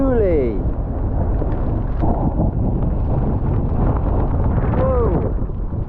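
Strong coastal wind buffets the microphone as a loud, constant roar throughout, with brief whistling tones rising and falling near the start and end.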